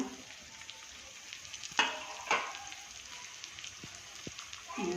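Onion frying in a pan, with a steady soft sizzle throughout and a couple of louder crackling bursts from stirring.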